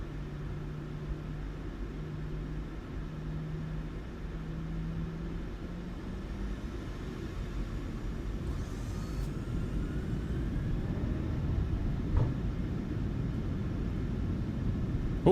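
Steady jet engine roar of a Ryanair airliner in MSFS 2024 building for takeoff from Bristol, a broad constant rumble with a tone rising early and holding, fairly loud and continuous, no voices.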